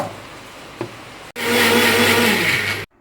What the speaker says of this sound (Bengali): মিক্সিতে লঙ্কা, পেঁয়াজ, টমেটো একটু জল দিয়ে পেস্ট করে নিতে হবে।